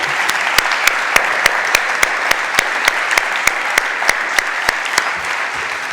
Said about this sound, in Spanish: pido un aplauso por esa organización de nuestra Feria del Libro